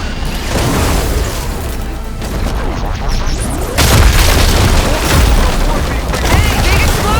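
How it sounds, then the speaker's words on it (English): Heavy booming blasts and crashing debris from an explosion during combat in the video game Horizon Forbidden West, a dense, loud, continuous barrage with a fresh surge midway, while a voice shouts over the chaos. "Hey, big explosion!"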